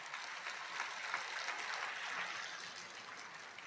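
Sustained clapping from a church audience, a broad, steady patter of many hands, fairly faint and distant, holding evenly throughout.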